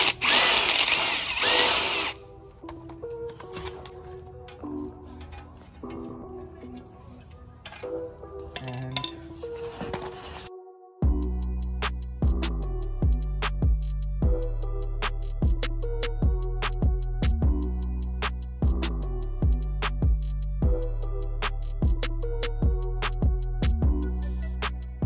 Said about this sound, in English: you're gonna drill these things out